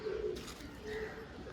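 Low pigeon coos carry through steady broadband crowd and market hubbub at a bustling pigeon market in Srirampur, with two brief cooing phrases heard faintly over the constant background din.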